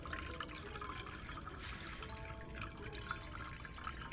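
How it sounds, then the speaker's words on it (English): Chocolate liqueur poured into a mould in Chocolate Factory Simulator, a steady watery splashing and trickling that runs evenly and fairly loud for the whole stretch, with no talk over it. "Pour your chocolate liqueur in here."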